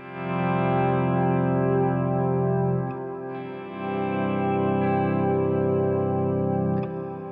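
Electric guitar chords played through a compressor pedal ring out with long, even sustain, held and then restruck, the tone smooth and compressed with no talking.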